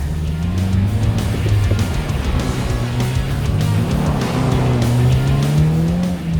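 2023 Subaru WRX with a manual gearbox circling a donut on a dirt race track, its engine droning steadily and rising and falling in pitch as revs change, loud and close throughout with no talk.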